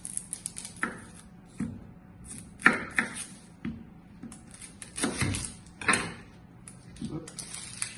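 Half an onion being roughly chopped on a board, with about a dozen irregular knife thuds spread out among kitchen clatter, close and fairly quiet, with a voice talking at points.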